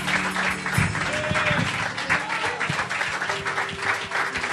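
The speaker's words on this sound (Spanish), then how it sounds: "Dáselo fuerte el aplauso al Señor." A church congregation applauds the Lord with sustained, dense clapping that fills the room, steady and loud, with a few voices and cheers mixed in under the din.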